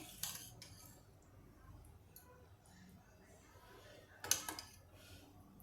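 Utensils clink against a pan while spiced Vidarbha-style green chili curry is spooned out, with a brief scraping burst near the end and faint background rustle between, no clear talk.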